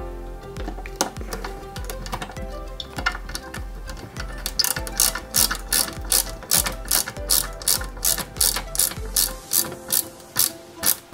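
Screws driven into a 1/8 scale Citroen C4 WRC 2008 rally car model, a rapid series of close, crisp ratcheting clicks over a low hum, settling into steady rhythmic ticks.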